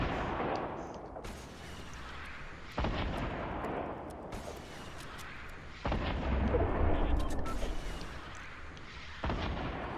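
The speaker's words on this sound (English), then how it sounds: "He need to run out of missiles" Missiles fire in the video game Fortnite, a series of heavy booming blasts followed by rumbling decay, spaced a few seconds apart and fairly loud.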